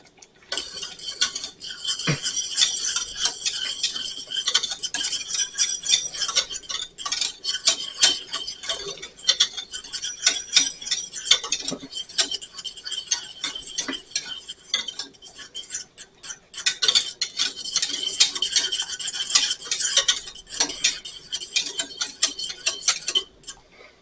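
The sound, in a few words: whisking a boiling condiment sauce in a pot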